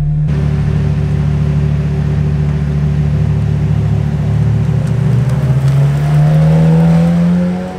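McLaren Senna 800hp hypercar engine started in race mode and idling loud and close, a dense rumbling drone that climbs in pitch near the end as it revs, with no talking.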